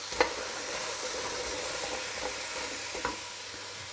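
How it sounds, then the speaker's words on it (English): Apples added to a warm pot for an apple and rhubarb crumble, a soft steady sizzle with a few faint stirring knocks, quiet and close. "So we're just adding the apples. You can hear it's nice and warm."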